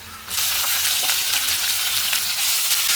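Loud, steady sizzling of vegetables hitting a hot pan, bursting in suddenly and crackling continuously with occasional stirring scrapes.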